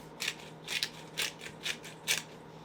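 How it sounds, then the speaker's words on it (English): A pepper grinder cracking black pepper over a mac and cheese being prepared, giving five or six short, crisp crunching twists in a steady rhythm, close and fairly quiet, with no voices. "approximately half a teaspoon of black pepper. I'm using a grinder, so I'm just going to go with feeling."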